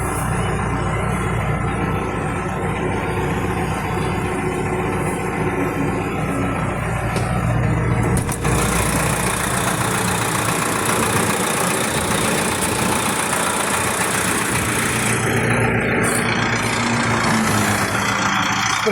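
A loader engine runs at a steady idle, a close, continuous mid-to-low droning rumble with faint vibration that holds unchanged for the whole stretch.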